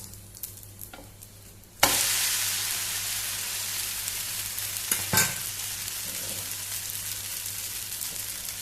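Ragi flour being stirred and roasted in an oiled pan, a steady close sizzle that jumps louder partway through and holds. Brief scraping stirs break through, with no talk.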